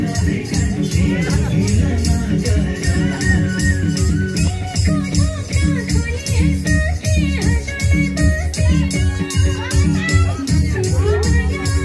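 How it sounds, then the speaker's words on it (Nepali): Boys hooting and cheering at a Deusi Bhailo festival gathering in Rolpa Khungri, a dense, loud crowd din of shouts and whoops layered over rhythmic music with voices throughout. "केटाहरुले खतरा हुटिङ गर्छन् यार"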